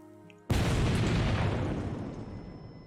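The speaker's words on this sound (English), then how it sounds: "All of Anazote has been rocked by a gunpowder explosion." A gunpowder explosion from the video game The Life and Suffering of Sir Brante bursts suddenly out of quiet into a loud, deep boom, then rumbles and slowly fades over a couple of seconds.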